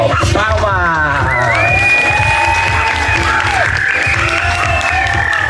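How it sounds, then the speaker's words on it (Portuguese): Loud audience applause and cheering after a fashion-show performance, with dense clapping under high whoops, shouts and excited voices that carry on steadily from start to finish. "Palmas!"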